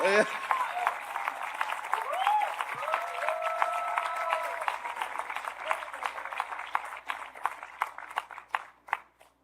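Applause from a church audience fills the space, a steady wash of clapping with sustained tonal singing or music running through it, fading into sparser individual claps toward the end.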